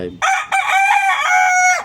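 A rooster crows loudly and close by, one long strained call rising then holding steady before cutting off, with no other sounds.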